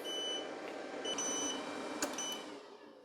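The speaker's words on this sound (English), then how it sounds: "Okay, it's beeping." Thin, high electronic beeps from a 230Ah server rack battery during a capacity test sound in a steady pattern over a low hum, with a faint click partway through.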